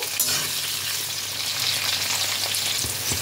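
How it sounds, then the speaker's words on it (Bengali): Cut pumpkin pieces fry in oil while being stirred, a dense, even close-up sizzle that holds steady throughout with light scraping of the spoon underneath. "কুমড়োগুলোকেও তেলের মধ্যে খানিকক্ষণ একটু নাড়াচাড়া করে নেব"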